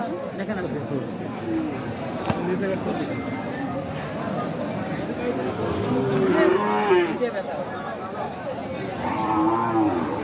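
Cattle moo repeatedly at a busy cattle market for crossbred bulls, several drawn-out lowing calls rising over constant nearby chatter and people talking.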